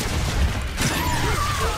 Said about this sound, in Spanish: probemos con la granada localizadora